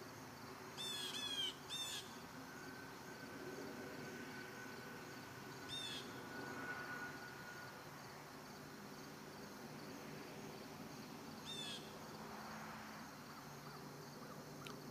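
Several short crow caws ring out near a lake: a burst of calls early on, then single caws a few seconds apart. A steady low outdoor hum runs underneath throughout.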